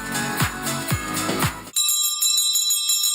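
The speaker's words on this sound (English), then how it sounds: "this bell rings for every child who triumphs over cancer." A hospital bell at Children's Hospital Los Angeles rings for a child who has beaten cancer: several bright, close strikes with decaying rings, followed by a steadier chiming tone.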